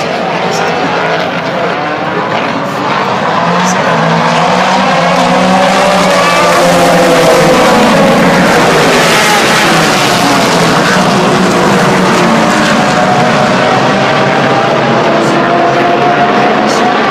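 Race cars roar past at an IMSA WeatherTech SportsCar Championship race at Canadian Tire Motorsport Park (Mosport), including the yellow number 85 Oreca and a Corvette, in a loud, continuous engine blare that swells and fades as the cars pass.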